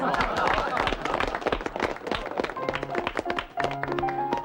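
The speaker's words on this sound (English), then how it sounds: "Loud applause." Loud applause from a period drama's gathering, dense overlapping claps with some voices and tones mixed in near the end.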